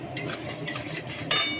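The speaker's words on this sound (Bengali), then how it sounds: "একদম ফ্লেমটা বাড়িয়ে দিয়ে নাড়াচাড়া করব।" Katla fish fried in a pan with soy sauce being stirred over a high flame: a few scraping, clattering strokes of a utensil against the pan over a faint sizzle, up close and without speech.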